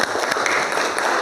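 Classroom applause at a vocational electronics high school, a dense, steady patter of many hands clapping close by for just over a second, with no voices over it.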